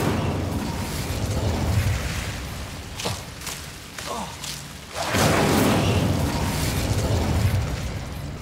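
Fire spell cast in the Hogwarts Legacy video game, heard as loud roaring bursts of flame and booming impacts over a rumbling game soundscape.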